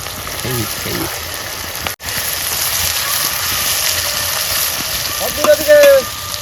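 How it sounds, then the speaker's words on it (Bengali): Onions frying in hot oil to make birista for prawn biryani, a loud, constant hiss and sizzle close by, with short bursts of talking near the start and end. "এই তো বেরেস্তা হচ্ছে, বেরেস্তা।"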